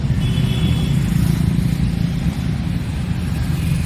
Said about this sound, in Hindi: यहाँ ट्रैफिक का काफ़ी शोर है, काफ़ी शोर हो रहा है, गाड़ियाँ जा रही हैं